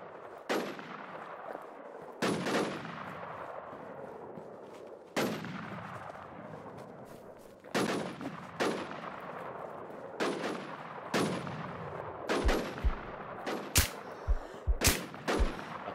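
Gunfire in the online survival shooter Infestation The New Z: sharp single shots and short bursts crack out loud and close at irregular intervals, with faster rattling volleys near the end and no talking.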